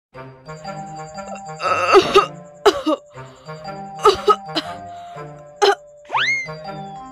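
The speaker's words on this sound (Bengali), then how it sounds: "আজ হঠাৎ সকাল সকাল কাশি হচ্ছে কেন?" Several harsh coughs break out in irregular bursts over a soft musical background, ending with a rising boing-like tone.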